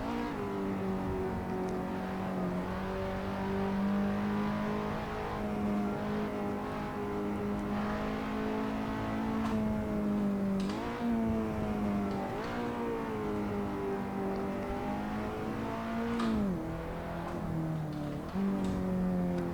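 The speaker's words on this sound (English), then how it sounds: "I think the last time I drove this car was in the career mode of Assetto Corsa." A race car engine in the Assetto Corsa driving game hums steadily at close range, its pitch rising and dipping with throttle and gear changes. There is no talk.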